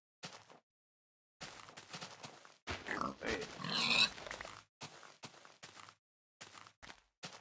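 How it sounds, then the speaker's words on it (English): A baby pig in the Minecraft video game grunts in a handful of short, close bursts spaced across the moment amid quiet footstep-like ticks, with a single brief spoken word. "Baby pig kind of scared me a little bit"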